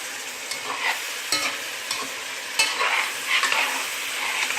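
Onions browning in a frying pan crackle and sizzle steadily while a utensil stirs them, scraping at irregular moments, close and fairly quiet with no voices.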